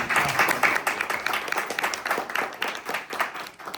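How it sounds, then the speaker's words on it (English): A crowd applauds with dense, steady clapping throughout, fairly loud and with no talking over it. "A round of applause."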